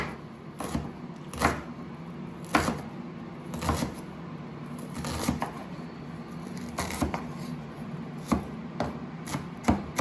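A knife chops an onion into small slices, a steady series of sharp, close taps on a cutting board, about two per second, with no talk over it.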